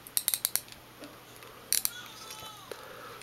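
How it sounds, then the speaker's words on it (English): Lew's Speed Spool Tournament Pro TP1HL baitcast reel spool tension knob clicking, a quick run of sharp close clicks, then a tight cluster of clicks about a second later, with faint faint mechanical rustle between. "It's got an audible click for the spool tension, and it's got the same thing for the drag."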